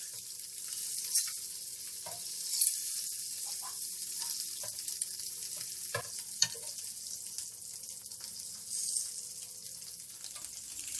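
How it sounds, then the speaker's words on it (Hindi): Eggs frying in a pan for a dhaba-style spicy egg curry give a steady, close sizzle with scattered pops and crackles throughout, and no talking. "एक गोल्डन सी लेयर आने तक हम इनको फ्राई करेंगे।"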